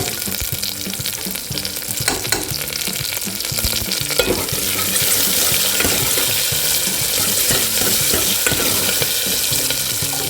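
Garlic and chilies sautéing in oil for a moong dal sambar, a steady, close hiss of frying that grows a little louder partway through, with occasional stirring knocks and scrapes.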